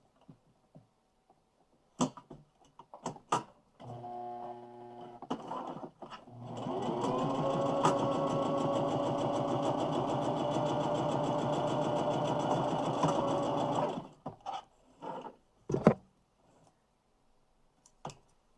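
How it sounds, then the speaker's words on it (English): A sewing machine stitching quilt fabric, a few clicks and taps of setup, then a steady whirring run of stitching lasting about eight seconds before stopping, followed by more scattered clicks. "My machine likes to eat my fabric lately."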